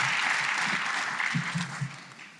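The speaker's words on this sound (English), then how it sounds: "Let's give them all a round of applause." Audience at an evening community event applauds the event chairs, a steady wash of clapping from many hands that holds throughout and thins slightly toward the end.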